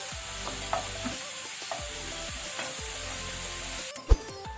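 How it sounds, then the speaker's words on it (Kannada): Onions with salt fry in a pan over a medium flame for chicken salan curry, making a steady close sizzle broken by regular stirring scrapes, with a sharp clank near the end. "ಇದೀಗ ಗೋಲ್ಡನ್ ಬ್ರೌನ್ ಆಗೋ ತನಕ ನಾವು ಫ್ರೈ ಮಾಡಬೇಕು ಮೀಡಿಯಂ ಫ್ಲೇಮಲ್ಲಿ"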